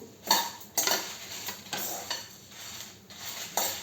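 Coriander seeds, cumin and dried chillies dry-roasting in a pan without oil, with close metallic scrapes and clinks of a spoon against the pan at an irregular stirring rhythm and a faint sizzle beneath.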